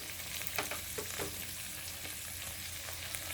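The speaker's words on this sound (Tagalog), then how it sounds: "Yan, mag-add na tayo ng tubig mga idol." Fish and egg frying in a pan as water is added: a dense, steady sizzle with a few soft scraping clicks, close and continuous.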